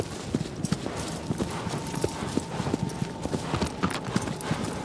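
Horse hooves clip-clop at a steady gallop in Shadow of the Colossus, each hoof strike sharp and rhythmic, loud and close. A faint murmur of game sound sits underneath.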